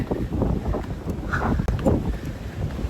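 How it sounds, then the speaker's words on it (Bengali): Strong wind gusts buffet the microphone atop Sigiriya Lion Rock in Sri Lanka, a steady, loud rumble that keeps roaring with brief lulls. "এখানে কিন্তু প্রচুর বাতাস আসলে হাত পা পা কাঁপছে উঠছে এত বাতাস"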